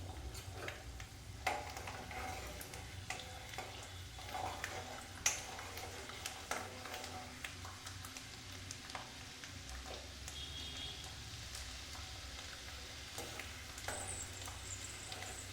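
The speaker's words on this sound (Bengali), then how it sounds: "এবার আমি বাদামটা খুব ভালো করে ভেজে নেব।" Peanuts fry in white oil in a wok, with a quiet, continuous sizzle and scattered light clicks and scrapes of stirring.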